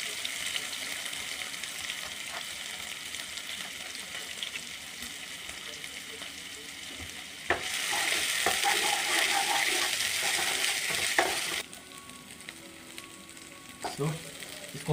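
Chopped onions with ginger garlic paste fry on a tawa for paneer tikka masala, a close continuous sizzle that swells louder midway, then drops back with light stirring clinks.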